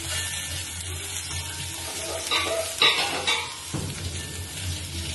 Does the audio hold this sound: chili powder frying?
yes